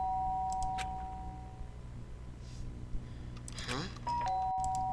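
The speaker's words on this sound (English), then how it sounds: "Ding dong. The sharp sound of the door pierced my sleeping haze and pulled me back in the real world." A doorbell rings twice in a video game, bright ding-dong chimes against a humming musical backdrop with a rising tonal sweep between them, clear and fairly close.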